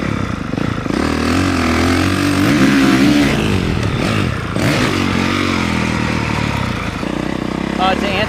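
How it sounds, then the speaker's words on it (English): Motocross motorcycle screams high in the revs through a jump, a loud, near, sustained engine roar with rising and falling pitch and some clatter, with talk partly under it. "you're gonna hear the bike go high up in the RPMs as I'm sitting down, and it's gonna create a lot of pop"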